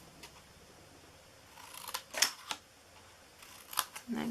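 Scissors snipping a small piece from the bottom slide-out part of a handmade paper treat box, with a handful of sharp, close, quiet cuts spread over a few seconds against soft background rustle.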